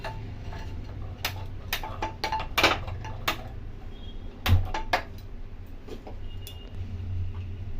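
A wok is set on a gas stove for cooking taro root paste, bringing a few sharp metallic clanks and clicks scattered over a low steady hum, close and moderately loud, with quiet gaps between.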